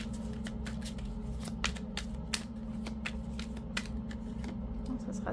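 Tarot cards are riffled and handled in quick bursts of crisp flicks and snaps over a steady low hum, close and faint with no voices.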